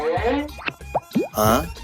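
A chilled goli soda bottle is popped open in a few short, quick plops amid close, continuous talking.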